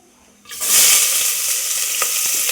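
Chopped onion and a little ginger dropped into hot oil in a pan, bursting into a loud, steady sizzle that holds on with faint crackles and stirring through to the end, with no voices.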